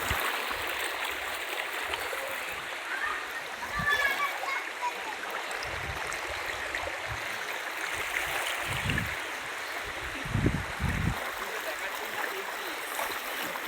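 Fast-flowing flood water rushing steadily at Kamargoria during a flood, a continuous broad watery wash with a few louder splashes, and people speaking faintly underneath.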